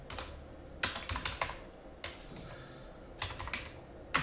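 Typing on a computer keyboard while writing a comment in C code, short bursts of clicking keystrokes in several quick clusters separated by brief pauses, close and fairly quiet.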